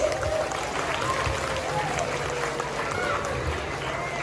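Audience at an Indonesian stage performance claps steadily in a dense, continuous wash, heard alongside background music and voices.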